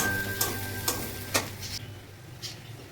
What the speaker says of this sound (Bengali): পেঁয়াজটা আমার লাল লাল করে ভাজা হয়ে গিয়েছে।